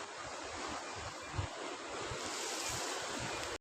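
Rushing water from a rain-swollen river in the Konkan region near an old temple in Sangameshwar, a steady broadband roar with gusty wind noise, close and continuous for a few seconds.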